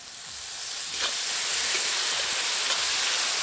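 Water poured onto chili powder and spices in a hot pan for chicken khichuri, giving a steady, loud hiss and sizzle of steam that holds for the full few seconds, with no talking.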